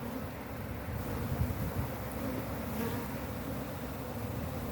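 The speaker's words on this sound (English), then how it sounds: "hopefully get all the bees climbing in the bottom" Honey bees from a defensive hive swarm and buzz densely as frames are shaken over a bucket, a steady close hum with wind rumble throughout and no talk.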